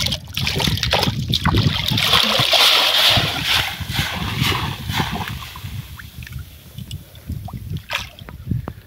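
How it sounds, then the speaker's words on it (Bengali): Hands stir and churn river water in the Sundarbans to catch shrimp, making continuous close sloshing and splashing that eases off toward the end. "আমি এখানে জল ঘুরাচ্ছি"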